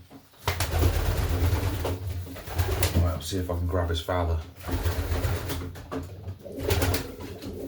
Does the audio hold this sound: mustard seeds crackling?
no